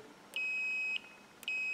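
A multimeter set to continuity beeps while testing a removed circuit breaker: two steady electronic tones, the first about half a second long, the second starting after a short pause, clear and fairly quiet.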